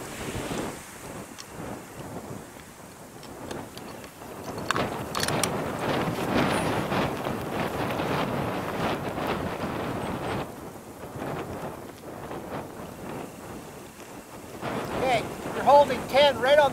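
Wind gusts across an outdoor long-range shooting range set for 1,760-yard targets, producing a steady low rumbling buffet on the microphone that swells louder near the middle and again toward the end.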